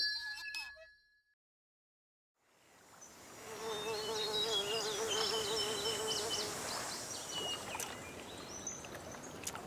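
Flies buzzing around a fish, with a dense, close swarm drone of many insects rising after a brief silence and holding steady, and a few faint clinks near the start.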